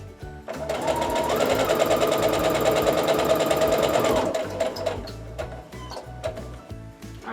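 Sewing machine stitching a quilt block seam, running steadily for about four seconds with a fast rhythmic needle chatter, then slowing and stopping, close and fairly loud with no talk.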